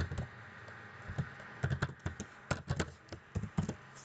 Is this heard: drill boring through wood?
no